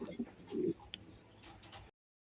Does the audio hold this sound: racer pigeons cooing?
yes